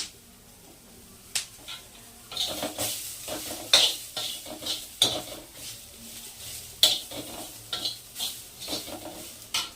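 Garlic being stirred and roasted in a hot pan while cooking a homemade chicken dish, with repeated scraping clinks of a utensil against the pan over a faint sizzle, close and moderately loud.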